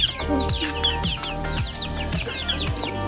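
Native country chickens and chicks cluck and peep continuously, several birds close by, with repeated soft clucks and higher chirps overlapping in a busy, steady flock sound with no talking.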